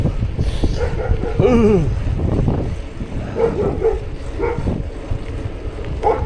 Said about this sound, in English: Another cute pit bull